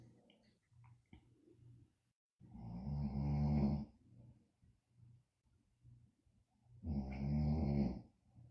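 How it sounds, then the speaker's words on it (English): A man snores in two long, loud, rasping inhalations several seconds apart, with quiet breathing and a faint hum between them. "Her husband's snoring."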